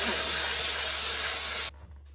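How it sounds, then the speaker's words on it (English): A Dupray steam cleaner hisses loudly and steadily while cleaning an AGA oven, a close continuous spray that cuts off sharply near the end. "The steam cleaner is just so good at loosening the dirt and the baked on grime, and then it just effortlessly wipes off."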